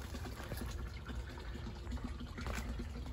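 A small pump in a koi pond, there to break the water surface, runs during winter shutdown. It makes a faint, continuous trickling and bubbling wash of water that stays steady and close throughout.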